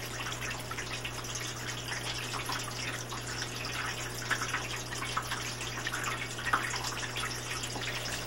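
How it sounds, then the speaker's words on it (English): Water flowing briskly down a series of cascades into a glowing pool in an interactive fountain installation, a steady, even rushing with a constant low hum beneath it. "Water flows briskly down a series of cascades into a glowing pool."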